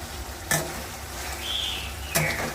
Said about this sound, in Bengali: এখন মশলা টশলা দিয়ে ঝোলটাকে একটু কষাচ্ছি।